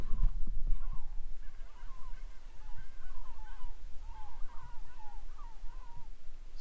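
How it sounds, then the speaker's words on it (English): Birds call repeatedly at a swollen reservoir, a series of honking, goose-like cries at moderate distance over a steady low rumble of wind. "And just hearing the birds, the amount of different birds here."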